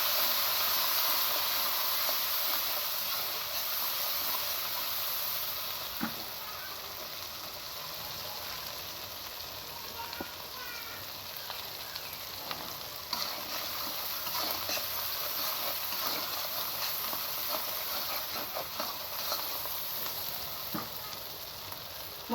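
Ground cumin and red chili powder fry in hot oil in a pan for a Bangladeshi cucumber curry with hilsa fish head and tail, giving a continuous soft sizzle and hiss with occasional light stirring clicks and no voices.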